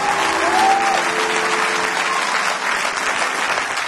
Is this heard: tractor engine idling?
no